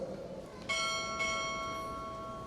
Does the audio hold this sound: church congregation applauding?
no